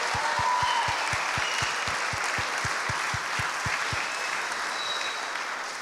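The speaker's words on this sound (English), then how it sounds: "Can we give them a massive round of applause, please?" An awards-show crowd at a horror game awards event gives sustained, loud applause. A steady low thumping beat runs beneath it for the first few seconds before the clapping continues alone.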